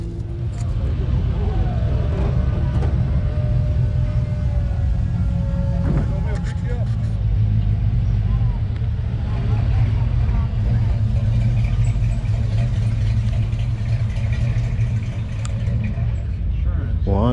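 A big old Cadillac convertible's engine idles with a steady low rumble throughout, while people talk close by over it.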